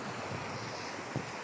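Sea waves and wind on the beach at Fahaheel, Kuwait, make a steady, close wash of surf and gusty noise, with one brief thump near the end and no talk.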